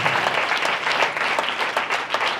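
Audience clapping during a sermon or talk, a short burst of dense, steady applause with no voices over it.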